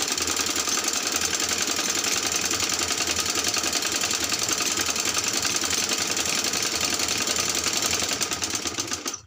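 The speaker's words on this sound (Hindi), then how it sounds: "अब हम सिलाई से पिनटैक्स डालेंगे यहाँ" A sewing machine runs steadily, stitching fine pintucks into trouser fabric with a dense, continuous mechanical whir that stays loud and even for several seconds before easing off at the end, with no voices.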